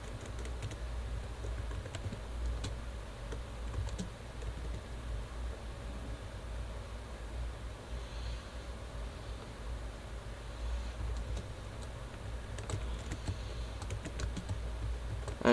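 Quiet, steady tapping on a computer keyboard while a git commit command is entered, a faint run of keystrokes over a low background hiss, with no talk.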